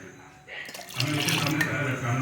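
Water is poured and stirred into a batter of garlic greens paste, chilli and salt for aayte, a wet splashing and sloshing that starts about halfway through and carries on steadily, with a faint voice underneath.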